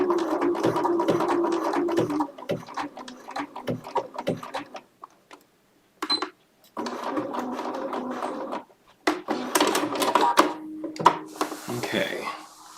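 A Bernina sewing machine runs in fast rattling bursts of stitching, stopping and restarting several times with short quiet gaps, close and clear.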